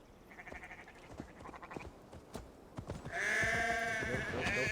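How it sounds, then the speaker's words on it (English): Sheep bleat repeatedly in Assassin's Creed Valhalla, with a long, loud, wavering bleat near the end. Footsteps and light rustling run underneath, and there is no talking. "Oh, sheep. Sheep, sheep, sheep. Gonna herd some sheep."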